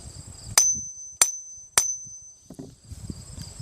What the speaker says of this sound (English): No misfire from tapping the hammer, hitting it, or banging it on anything.